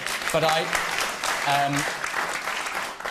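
Studio audience applause at a televised political debate in St Austell, a broad wash of clapping filling the clip, with voices and brief tonal sounds heard over it.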